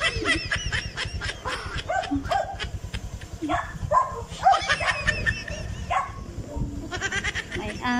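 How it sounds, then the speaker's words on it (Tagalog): A stray dog barks in short, repeated yips at close range, mixed with laughter and chatter from several people nearby. "May asong gala."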